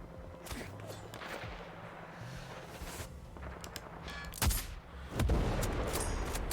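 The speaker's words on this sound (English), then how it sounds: "Who's over here shooting?" Gunfire in a multiplayer shooter video game, with scattered distant shots and bursts over a steady game background, then a sharper nearby crack and a louder rumble toward the end.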